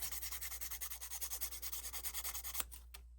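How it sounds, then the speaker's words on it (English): Small strokes of sandpaper rub back and forth on the handle of a 1:12 scale miniature wooden rocking horse, a quick even rhythm of soft close scratching that stops near the end. "So I'm just going to go ahead and lightly sand this handle"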